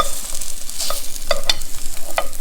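Thai fish cakes fry without oil in a non-stick pan, giving a steady loud sizzle. Scattered scrapes and taps come through as the cakes are turned with a utensil, and no one speaks.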